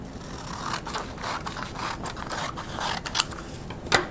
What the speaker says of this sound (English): go ahead and cut off this rectangle shape there off to the side